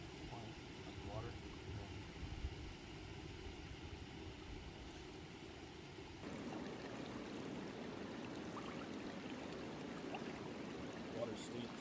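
A river flows in a quiet outdoor spot, giving a faint, steady wash of moving water that brightens slightly partway through.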